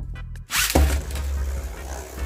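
Beyblade Burst spinning tops, including a stamina-type Helios, launched into a plastic stadium: a sharp ripping launch burst followed by a steady, close whirring spin that fills the rest of the short moment.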